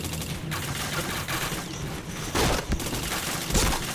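Loud, dense gunfire from a shooting video game, with rapid overlapping bursts throughout and heavier volleys near the middle and end, and no talking.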